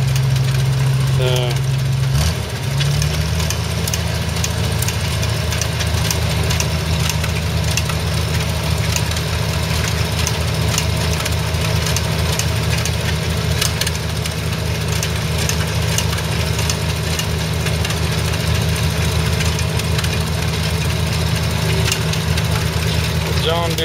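An antique International tractor engine runs wide open at an antique machinery show competition, a loud, steady low drone that fills the whole stretch without letup.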